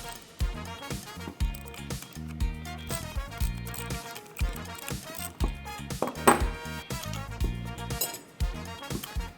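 Metal clanks and clinks ring out in a rapid series as a shifter retaining plate comes loose from a Ford S550 Mustang GT during a short-throw shifter install, close and sharp with brief gaps between knocks.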